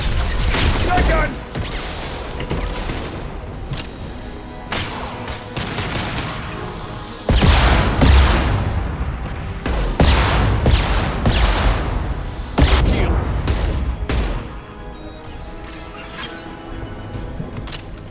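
Heavy shotgun blasts in Mass Effect 2 Legendary Edition combat, several loud booming shots spaced several seconds apart amid ongoing battle noise and occasional voices.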